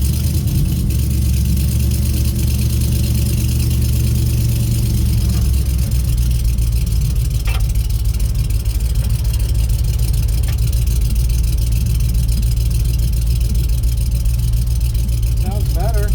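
Engine of a 1980 Pontiac Firebird idling, a steady low rumble held close and loud throughout, with faint voices and brief clicks over it.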